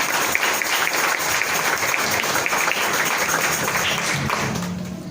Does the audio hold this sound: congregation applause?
yes